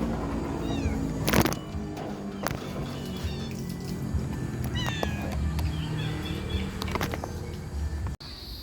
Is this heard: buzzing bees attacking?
no